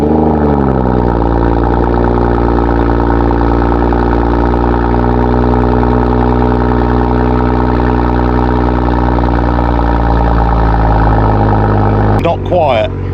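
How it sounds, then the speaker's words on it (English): A BMW M140i six-cylinder engine cold-starts with a loud rising roar and then settles into a steady, high idle drone that continues close by until a brief rustle at the end. "Let's get a cold start done on it and let's go."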